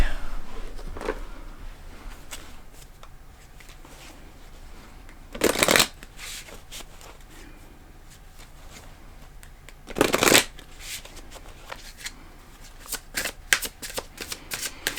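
A deck of tarot cards shuffled in two brief bursts a few seconds apart, each crisp riffle close and fairly loud against a quiet background, with a few light card taps near the end.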